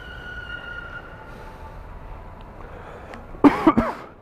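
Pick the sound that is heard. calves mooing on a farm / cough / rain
cough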